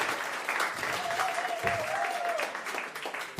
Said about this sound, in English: I just wanted an applause.